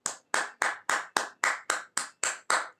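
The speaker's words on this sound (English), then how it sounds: "clap your hands for Anas" A group of students in a classroom claps hands together in unison for a classmate, about ten crisp, evenly spaced claps in a steady rhythm, close and clear with no talking.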